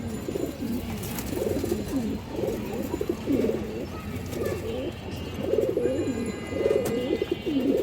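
A lively female pigeon and others coo repeatedly in soft, throaty, rolling calls close by, over a steady background hum.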